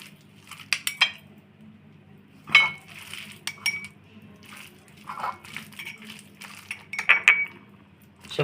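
Metal spoon clinks and scrapes against a bowl in scattered, irregular taps while pointed gourd stuffing is mixed with beaten egg, quiet and close with no talking.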